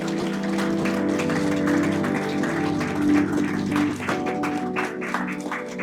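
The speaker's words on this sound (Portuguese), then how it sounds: "Vamos aplaudir esse momento, aplaudir Jesus" Applause from a congregation at a church service rises over sustained keyboard chords and music, a continuous dense clapping that stays fairly loud for several seconds.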